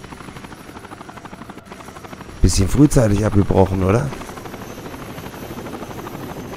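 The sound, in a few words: helicopter in video game Rainbow Six Vegas 2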